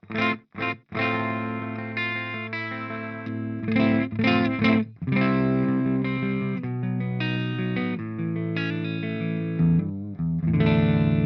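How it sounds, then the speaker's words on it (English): Electric guitar played on a clean amp tone, chords ringing out with short pauses at first, then sustained strumming, fairly loud and upfront. "So this is the clean channel of my amplifier."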